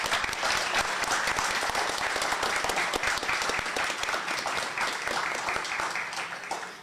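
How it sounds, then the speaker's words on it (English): A round of applause for candidates at an Estill County candidates forum, dense and even clapping from a large audience sustained for about seven seconds before easing slightly at the end. "Let's give them a round of applause"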